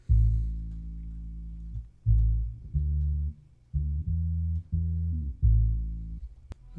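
A guitar sample pitched down an octave with the high end cut by EQ, playing a deep, muffled phrase of sustained notes in short repeated chords, separated by brief gaps, alone and fairly quiet.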